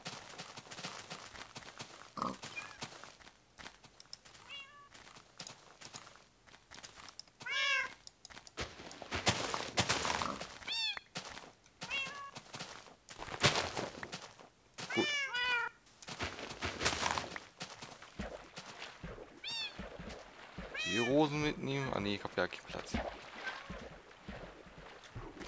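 Cats in Minecraft meow repeatedly in short, high bursts scattered through the scene, some overlapping, mixed with clip-clop footsteps and game ambience.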